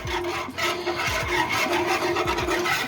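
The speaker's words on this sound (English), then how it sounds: "Then I'm gonna whisk in that thing." A whisk scrapes steadily against a pan of thickening rosemary gravy, a continuous close rasping and rubbing with a quick repeating stroke rhythm, no talking.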